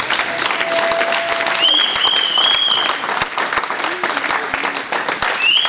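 A congregation applauding at a religious wedding ceremony, sustained loud clapping from a crowd with some voices and cheers mixed in throughout.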